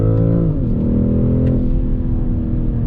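A 2021 BMW M440i engine pulls hard in second gear, a loud, steady, close-up drone whose pitch dips briefly, then climbs as the revs rise under full throttle.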